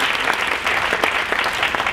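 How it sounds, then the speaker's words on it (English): An audience at a civic leadership event claps steadily. The applause is dense, even and close, with no break across the whole moment. "give them a round of applause for bringing the anchors"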